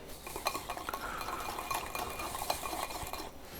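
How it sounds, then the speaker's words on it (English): Cream cheese whisked together with yogurt and a few drops of blue food dye for a sugar-free cupcake frosting, making close, rapid, rhythmic scraping and clicking against the bowl, steady throughout with no talk. "whisking in the cream cheese with the yogurt till everything is well combined"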